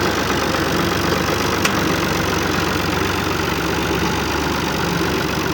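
A tractor engine idles steadily in farm fields, a continuous low rumbling drone with no breaks, fairly loud and close, with no talk over it.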